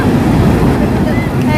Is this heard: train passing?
no